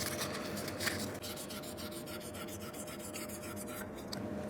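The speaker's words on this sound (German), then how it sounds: "Das mache ich hier mit so einem 1000er Schleifpapier." Fine 1000-grit sandpaper rubs by hand on the metal gearbox casing of a BMW R 1150 motorcycle, a close, steady rasping scrub with rhythmic strokes throughout.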